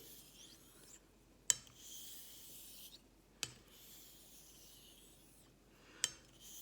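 Straight razor honed on a Japanese natural stone with Nagura slurry over a black Arkansas base: soft, steady scraping strokes under the blade's own weight, with a sharp click at each turn of the blade.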